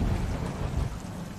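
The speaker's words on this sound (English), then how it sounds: "Rain, lightning." Thunderstorm with heavy rain in a TV drama scene, a continuous loud low rumble of thunder over steady rainfall, with no talk.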